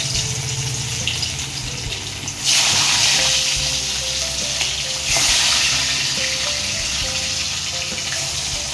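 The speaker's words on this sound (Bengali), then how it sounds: "মাছগুলো ভালো করে ভেজে নেব।" Fish frying in hot oil with salt added to stop sticking, a loud continuous sizzle close by that swells sharply twice as pieces shift or are turned, with faint background tones underneath.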